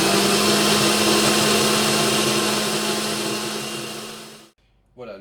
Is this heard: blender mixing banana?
yes